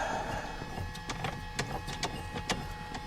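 The elevator pitch trim motor of a Mu-2 aircraft runs in short whirring bursts, a series of mechanical buzzes and clicks at irregular intervals over a low cockpit hum.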